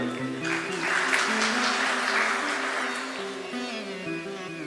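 A seated crowd at a long discourse bursts into applause, a dense wash of clapping that swells and holds for several seconds over steady sustained musical tones.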